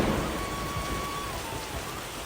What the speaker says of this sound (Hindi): जंगल में अचानक मूसलाधार बारिश होने लगते हैं